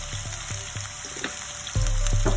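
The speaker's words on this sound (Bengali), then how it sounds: "এখন আমি গ্রিন চিলি আর অনিয়নে দিয়ে দিলাম" Green chilies and onion dropped into hot oil with cinnamon, cardamom and bay leaf for a chicken samosa filling, with a few light clinks and then a sudden loud, steady sizzling fry close by.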